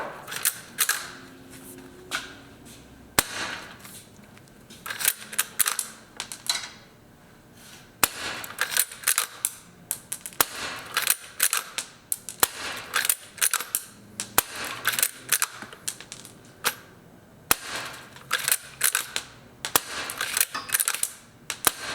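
Elite Force Legends Saddle Gun, a CO2 air rifle, heard in a long string of sharp, close shots and metallic lever racks in quick irregular rhythm, with faint handling noise between them.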